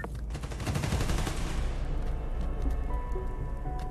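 Video-game gunfire in Marvel's Spider-Man: Miles Morales: a dense, loud burst of rapid shots that fills the first half, then cuts to fainter scattered pops and rumble.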